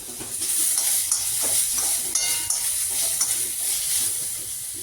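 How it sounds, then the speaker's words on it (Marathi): Cashews, garlic and ginger sauté with roasted tomatoes in a pan, a steady close sizzle and fry broken by the scrape and clack of stirring throughout, with no talk. "हे जे लसूण आणि आलं आहे ते पण चांगलं ह्याच्यात परतून घ्यायचं आहे"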